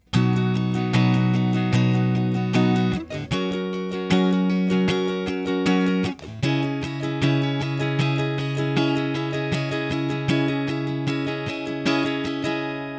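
A guitar plays the chorus of a song, with fast, even strums of ringing chords, loud and close, changing chord about every three seconds, with no voice.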